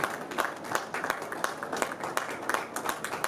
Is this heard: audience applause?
yes